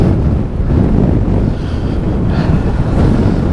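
Strong wind on a coastal island near a ferry landing, a loud continuous roar buffeting the microphone with low rumbling gusts and no talk.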